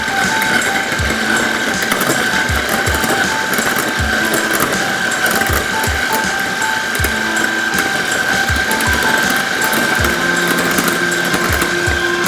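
Electric mixer beating chilled heavy cream into a light, fluffy frosting, a steady loud motor whine with a constant high tone and rhythmic thumps of the beaters against the bowl, running throughout without talk.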